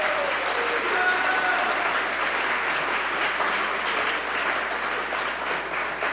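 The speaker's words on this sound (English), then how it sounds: "y'all can give them, all the candidates, a big round of applause" A crowd at a Houston mayoral candidates' forum applauds in a sustained, even roar of many hands, loud and continuous from start to finish, with faint voices mixed in.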